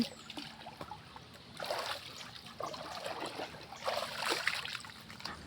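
Water trickles and splashes in a village canal as hands and face are washed, faint and close, with irregular bursts of splashing over a steady flowing background.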